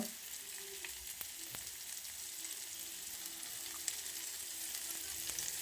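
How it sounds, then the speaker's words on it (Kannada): River fish frying slowly in a little oil over a low flame, a soft, even, continuous sizzle with faint crackles and occasional light taps, quiet and unbroken. "ಇದನ್ನು ಸಣ್ಣ ಉರಿಲೇ ಫ್ರೈ ಮಾಡಬೇಕು ಸ್ವಲ್ಪ ಸ್ವಲ್ಪ ಈ ಥರ ಎಣ್ಣೆ ಹಾಕ್ತಾ ಇರಬೇಕು"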